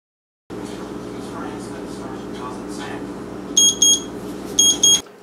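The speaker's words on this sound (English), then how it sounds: "Our timer has just rang." Over a steady low hum, a high-pitched electronic kitchen timer beeps in two quick pairs, clear and close, signalling cooked sticky rice.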